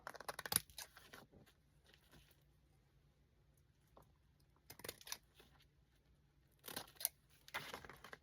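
Scissors trim a paper tag with a lace pocket in short, quiet bursts of snipping and paper rustle, separated by pauses.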